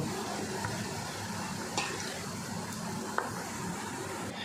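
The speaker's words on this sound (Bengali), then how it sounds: "ইনোটা দেওয়ার পরে আমি একটু উপরে সামান্য একটু জল দিয়ে দেবো, এবার মিশিয়ে নেব" Eno and a splash of water being stirred into semolina batter, a steady soft wet scraping and churning that runs on without pause for a few seconds, with two faint clicks along the way.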